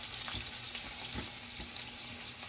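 Onion, garlic and ginger sautéing in leftover frying oil from fish, a steady close broadband sizzle with faint stirring clatter running throughout, no talking.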